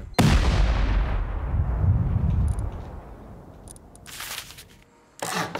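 A turret firing in a loot-raiding video game, one loud booming blast that rolls off into a long decaying rumble, followed by a few sharper cracks and another heavy shot at the end.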